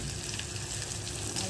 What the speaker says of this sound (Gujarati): અને ટામેટાને પણ આ રીતે સાંતળી લઈશું.